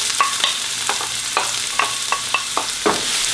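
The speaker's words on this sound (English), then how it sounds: "Gonna saute the onion a little." Chopped onion sautés in hot olive oil on a stovetop, a continuous bright sizzle broken by regular scraping stirs about every half second, close and clear with no talking.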